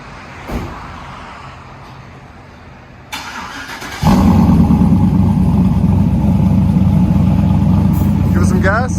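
A cammed 6.0L V8 Chevy work van with true dual exhaust and straight pipes cranks and fires up into a loud, lumpy, choppy idle that rumbles on steadily; a voice speaks briefly before the start.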